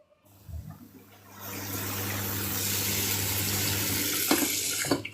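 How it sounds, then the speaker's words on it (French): Tap water runs into a saucepan being filled for instant noodles. After a few soft knocks, the stream starts and builds into a steady, close rushing splash, with a couple of clunks of the pan near the end. "Vous remplissez la casserole d'eau."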